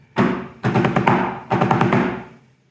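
Snare drum plays the basic line of the British Reveille: three crisp bursts of rapid rolled strokes with short rests between, close and loud with no voices.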